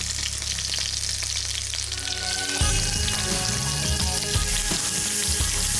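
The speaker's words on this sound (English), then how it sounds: "2 tablespoons of red chili going in on the side of the pan. This prevents it from burning." Red chili powder and spices sizzle loudly in a hot oiled pan with onion, ginger and garlic paste, a continuous frying hiss that grows denser and more crackling partway through, with no talking.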